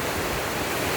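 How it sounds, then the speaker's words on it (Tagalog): Strong gusting wind during a rain shower in the Philippines, a steady dense roar buffeting the microphone without pause. "Ang lakas ng hangin, oh."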